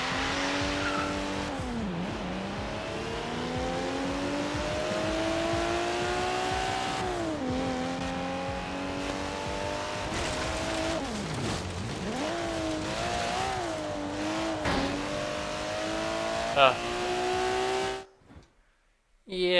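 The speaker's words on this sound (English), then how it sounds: "It sounds like something similar to a 2JZ kind of sounding engine." A Toyota Supra engine in Forza Horizon 3 revs up and down repeatedly, rising and falling in pitch with gear shifts, loud and close, then cuts out near the end.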